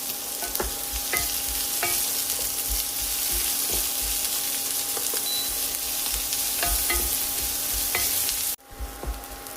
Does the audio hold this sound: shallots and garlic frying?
yes